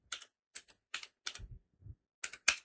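Typing on a computer keyboard, about seven short clusters of crisp key clicks with brief pauses between them, close and alone.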